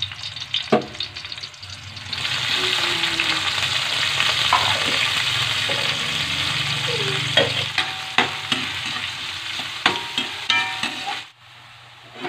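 Garlic and onion stir-fry in a hot pan for spicy squid adobo, a steady loud sizzle with scraping clicks of a utensil against the pan, alone without talk and stopping near the end.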